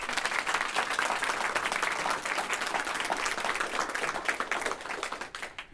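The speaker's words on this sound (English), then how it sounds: "So a big round of applause for George Stevenson High School." Sustained audience applause for George Stevenson High School at a Northern Power Women speed mentoring session, dense steady clapping at even loudness that thins and fades in the final second.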